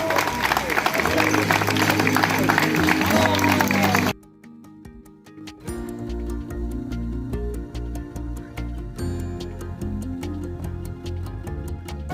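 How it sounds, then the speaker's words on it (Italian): Wedding guests at a Sicilian celebration applaud the bride and groom, first a loud dense burst of clapping and cheering, then sharper scattered claps over music after a brief lull. "Vogliamo con un grande applauso i nostri"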